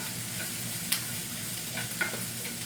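Squash and garlic sizzle in a pan, a soft, steady frying hiss with a couple of brief scraping stirs.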